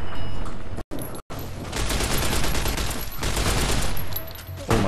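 Dense, close rounds of gunfire fill a fight in Fallout: New Vegas, broken by two very short gaps near the start and then a long rattling stretch of shots.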